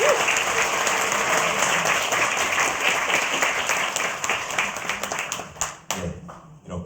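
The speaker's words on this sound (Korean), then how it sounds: "박수 부탁드립니다." Loud audience applause fills a community hall after a sand art performance at a local autonomy day ceremony, a dense steady clapping that thins and fades out near the end.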